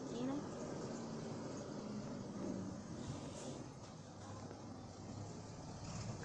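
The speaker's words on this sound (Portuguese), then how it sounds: "Caminhão passando na rua, galera, não liga." A truck passes along a street outside, a faint, low engine rumble that swells and fades under a steady background hiss.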